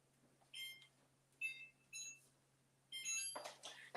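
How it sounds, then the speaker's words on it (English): A kitchen timer beeps in a faint, distant pattern of short tonal chirps while almond butter is being made. Several beep groups come at uneven intervals over a quiet, steady hum. "Timer."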